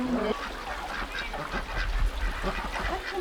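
Ducks call near a stream in a remote mountain village, a close, continuous chorus of honking quacks overlapping one another, with flowing water underneath.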